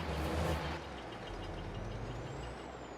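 A truck's Jake brake in the farming video game Farming Simulator 22 makes a loud, steady engine-braking rumble that drones on throughout, with a thin rising whine near the end.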